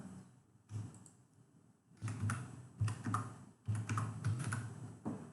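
Old password being typed on a computer keyboard, a steady run of close, crisp key clicks in uneven bursts with short pauses between them, no voices.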